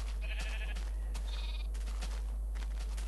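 Sheep bleating in the Minecraft video game, two short wavering bleats close together, heard alone over a low steady background hum.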